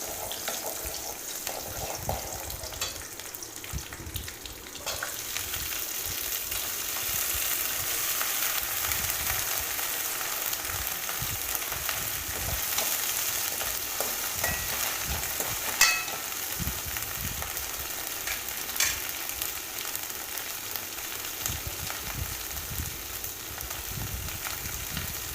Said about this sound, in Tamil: வெங்காயம் நல்லா வதக்கிட்டு அதுக்கப்புறமா காய் சேர்த்திக்கிறேன்.